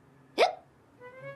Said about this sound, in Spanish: así se me va a quitar el hipo